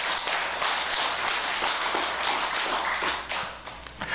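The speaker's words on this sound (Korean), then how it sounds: "박수 한번 쳐야죠, 우선." An audience claps together during a Buddhist Sunday family dharma service at a Jeonbuk Buddhist hall. The applause is dense and steady for several seconds, then thins out near the end.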